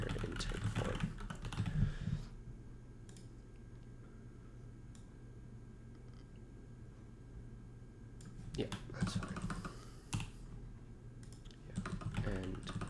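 A worn, failing computer keyboard is typed on in quick clattering bursts at the start and end, separated by a quiet stretch, with a person talking briefly over it.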